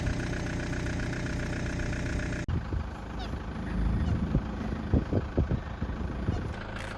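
A car engine idles to warm up at a desert camp on Australia's Canning Stock Route, a steady close rumble throughout, with a sharp shift partway through followed by some knocks and clatter.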